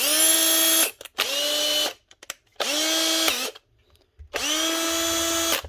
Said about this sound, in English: This is the older heavy duty brushed Makita drill with a new second hand chuck fitted